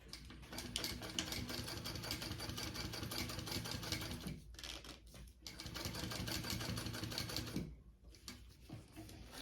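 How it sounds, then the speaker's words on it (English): A sewing machine stitches around a zipper pocket on a crossbody bag, a fast steady mechanical whirring chatter that runs for several seconds, briefly pauses, resumes, then stops and starts again near the end. "All right, so I'm going to sew around that."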